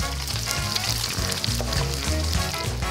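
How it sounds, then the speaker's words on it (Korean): Smelt coated in flour and starch deep-fry in hot oil with a loud, continuous bubbling sizzle close by, dense crackling throughout and no speech. "전분에 한 번을 더 묻혀준 다음 기름에 바삭하게 튀기는데요"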